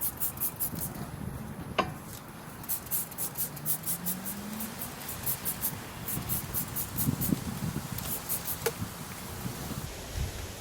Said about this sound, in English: I am gonna spray this down with some brake cleaner.